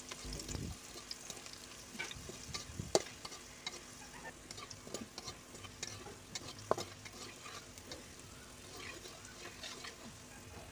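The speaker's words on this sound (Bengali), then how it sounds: "রসুনের কুচিগুলো দিয়ে দিবেন।" Chopped garlic fries in oil in a wok after chillies were fried, for a tilapia fish bhorta; soft sizzling under intermittent spatula stirring and scraping clicks, with some water-like splashing, close by and moderately quiet.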